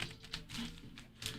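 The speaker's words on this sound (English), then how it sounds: "I'll just start shuffling these." Football trading cards shuffled by hand, a soft, continuous papery riffling with light flicks and brief bursts, close up and fairly quiet, with no voices.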